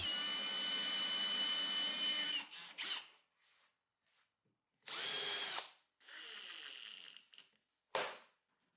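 Power drill boring a 35 mm hole with a Forstner bit in reclaimed wood for a large wardrobe, a loud close whine for over two seconds, then several shorter bursts of drilling separated by silence, with no talking.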